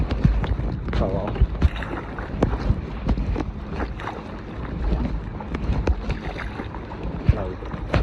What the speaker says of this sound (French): Moteur Mercury.